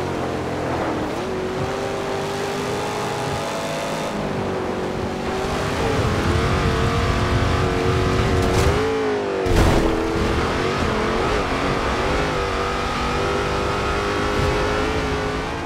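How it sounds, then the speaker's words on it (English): A deep, throaty V8 racing car engine in Forza Horizon 2 drones and revs continuously, pitch shifting through gear changes, loud and close. "I like to hear the thump of the car, the throaty V8s and the screaming, inline motors"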